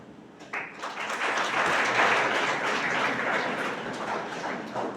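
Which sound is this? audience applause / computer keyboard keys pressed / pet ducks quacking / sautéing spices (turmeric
audience applause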